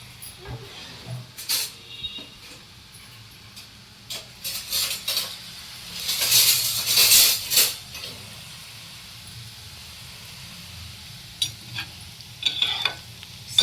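Sev dough pressed into hot oil, made from potato and roasted gram flour, sizzles and hisses steadily in a home kitchen, with occasional clinks and stirring of utensils against the pan; no one speaks.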